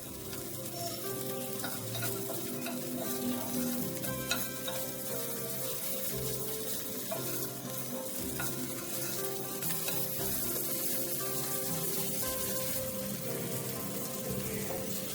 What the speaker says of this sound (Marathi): दोन्ही वाटेन तांबडं जातपर्यंत भाजून घेऊया